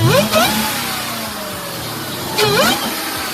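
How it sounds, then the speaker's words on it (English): With the hood open, a high-performance car engine revs twice, each loud rising roar dropping back to idle, heard close up. "let's pop the hood and see what this thing can do. Alright, give it a rev."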